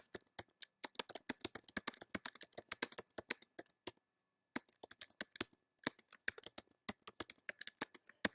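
Close, crisp clatter of fingers typing on a computer keyboard, quick irregular keystrokes in bursts separated by short pauses, including a clear gap midway.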